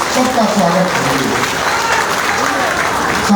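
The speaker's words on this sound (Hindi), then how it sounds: "साथियों, एक बार जोरदार ताली बजाकर सबका स्वागत करिए" A crowd at a BJP political rally claps hard in steady, dense applause that holds for a few seconds without a break, with voices faintly mixed in.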